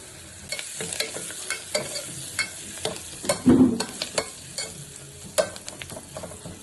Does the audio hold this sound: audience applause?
no